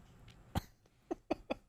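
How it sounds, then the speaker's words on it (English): A slight cough comes first, then a few more short, dry coughs in a quick uneven burst, each one brief and close, with no talk over them. "Slight cough."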